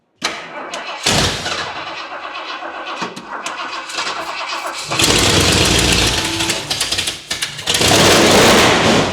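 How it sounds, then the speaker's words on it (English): A loud old Ford F250 pickup engine, unused for 20 years in a shipping container, cranks, catches and roars to life, revving hard and rough with a harsh, throaty idle that grows louder toward the end. "This is definitely the loudest vehicle we've ever started in here."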